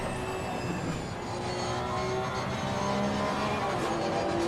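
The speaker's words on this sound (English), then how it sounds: "Listen to that transmission whine," A Porsche Cup car at Bathurst in a sim racing game drones loudly and steadily, with a thin high-pitched transmission whine over the engine.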